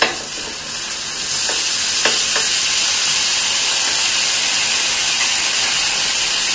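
Mixed vegetables with masala sizzle loudly on a hot tawa as a little water is added, a steady close steamy hiss with a few brief sharp crackles early on.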